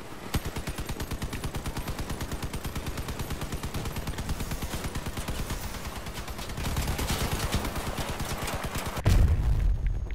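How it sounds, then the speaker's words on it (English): Minigun fire in the vehicle combat game Crossout: a continuous, rapid stream of gunfire, dense and steady for about nine seconds, ending in a heavier blast. "how many miniguns did that guy have?"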